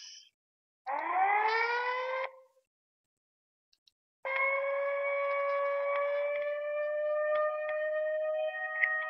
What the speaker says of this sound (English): a lot of the Oregon sirens are older. They sound more like this.